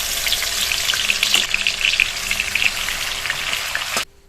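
A fish head rubbed with turmeric and salt hisses steadily in smoking-hot oil, a loud close sizzle that runs continuously and then cuts off abruptly near the end.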